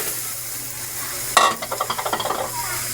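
Sponge gourd (patola) dropped into a hot pan bursts into a sharp sizzle, followed by a rapid run of crackling pops and stirring clinks over a steady hiss.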